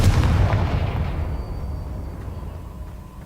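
A Confringo spell blast goes off in the Hogwarts Legacy video game as a deep booming explosion that starts loud and rumbles away into a fading tail.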